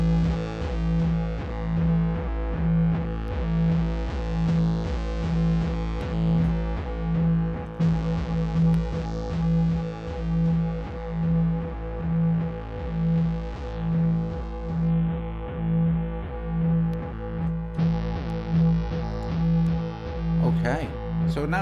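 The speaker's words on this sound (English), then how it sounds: "Let's add some distortion to that as well." A sustained SynthMaster 2 synthesizer patch with delay and added distortion, a gritty edge and a steady pulsing rhythm, layered tones shifting over time.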